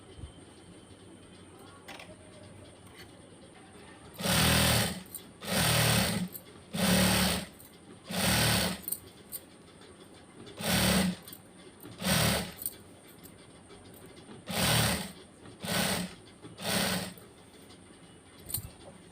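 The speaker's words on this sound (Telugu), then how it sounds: "ఇలా మొత్తం కుట్టుకోవాలి." Sewing machine stitching the back opening of a prince-cut blouse, running in about nine short bursts of a few seconds each with brief pauses between, close and steady.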